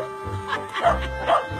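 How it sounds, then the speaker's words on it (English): A real dog lets out two or three short, soft yips and barks, close by and fairly quiet, with a faint voice in the background. "It's a dog."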